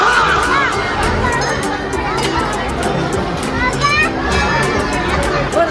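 A dense crowd of devotees at a Siddheshwar temple feast fills an open courtyard with loud, close overlapping chatter, children's voices and shouts, without pause.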